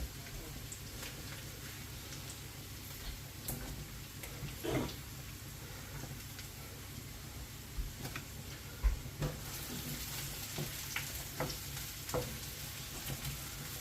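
Sliced mushrooms frying with onions in a pan, a soft steady sizzle with occasional stirring clatters and small pops, close and fairly quiet.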